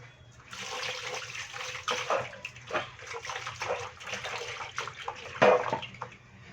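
Stingray meat being washed with water: irregular splashing and sloshing with running water and a few sharper splashes, close up and moderately loud.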